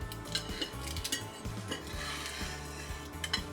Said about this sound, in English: Let's see if we can get the slice out